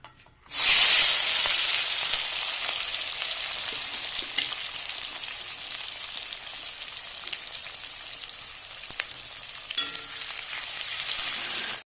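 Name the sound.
onion frying in hot oil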